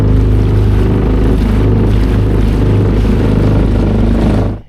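A Tohatsu outboard motor drives a boat with a loud, steady droning hum held close throughout, then cuts off abruptly at the very end.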